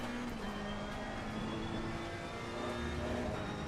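A race car in the racing game ACC at full throttle, its engine holding a steady, sustained high whine that stays loud and even from start to finish.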